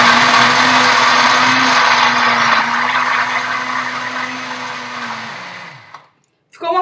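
A kitchen blender whirs steadily, blending soy pâté with soy milk in one loud, continuous run before spinning down and stopping near the end.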